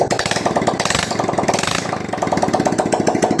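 Yamaha motorcycle engine running without its exhaust fitted, close and loud with a rapid throbbing pulse, the throttle opened so it revs up briefly before settling back into a fast chugging idle.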